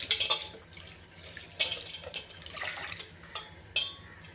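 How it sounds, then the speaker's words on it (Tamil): Flattened rice (aval) being rinsed by hand with water in a vessel for payasam, giving soft intermittent splashes and sloshing with a few sharper water swishes, close and fairly quiet. "தண்ணி ஊற்றி நல்லா அலசிக்கலாம்."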